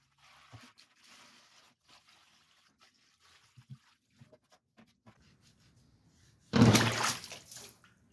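A flywheel is lowered into a tub of old parts washer fluid: faint drips and small trickles come first, then a louder splash and slosh of liquid near the end, with no talk.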